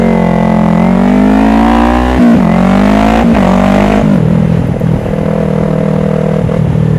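A motorcycle engine rises under throttle, a loud, close, harmonic roar that climbs steadily in pitch, dips briefly at a shift and then carries on with a rougher, clattering drone.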